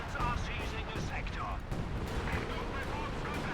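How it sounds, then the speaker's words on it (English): Panzer barrage artillery in Company of Heroes 2 rumbles as a steady dense wash of distant booms and impacts, mixed under ongoing battle noise and casting commentary. "There you go, Panzer barrage"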